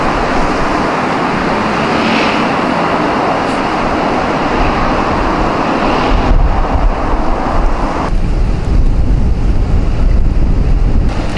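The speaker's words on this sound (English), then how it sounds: "It's so windy today." Strong wind buffets the microphone on a quiet shopping street in Tokyo, a loud continuous roaring rumble with faint traffic noise mixed in and no voices.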